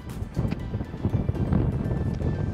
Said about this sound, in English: You can probably hear it across the microphone, but there's a bit of wind out today.